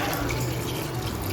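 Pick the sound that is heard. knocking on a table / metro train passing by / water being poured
water being poured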